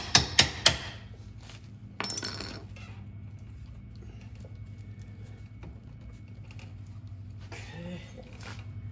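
Metal tapping while fitting parts into a Club Car DS golf cart bracket during bushing and tie rod work: three sharp close clinks at the start, a louder clatter around two seconds, then quieter knocks over a low steady hum.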